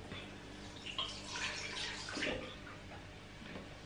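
Running water splashing and swishing while makeup brushes are rinsed and rubbed clean, a steady close wash with louder surges of splashing in the middle.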